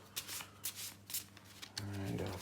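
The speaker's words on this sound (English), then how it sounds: "So I've shuffled the deck," Someone shuffles a deck of playing cards in a series of quick riffled bursts, about four evenly spaced rustles close to the microphone, followed by a low voice starting to speak.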